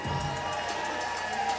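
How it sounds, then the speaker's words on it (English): Crowd noise at a women's 170-pound boxing event before the night's final bout, a steady roar of cheering and shouting from a packed room. "Come on, crowd, let's make some noise for the last fight of the night"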